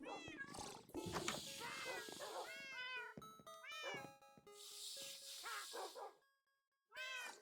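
Cats in Minecraft meow repeatedly, with drawn-out, rising and falling mews, overlapping and close, alongside a few chiming dings and clangs, with a brief pause before one last meow.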